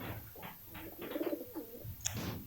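Pigeon coos in a pigeon-keeping video game, a run of soft, low, warbling calls, fairly close and clear, with a brief brighter sound near the end.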